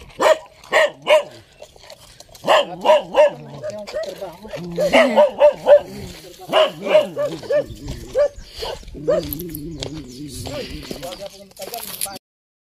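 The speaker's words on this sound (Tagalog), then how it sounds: "So, ayan po may aso." Dog barking near a family home on rural land, in repeated bursts of sharp barks with short pauses between them, loud and close, while people talk now and then.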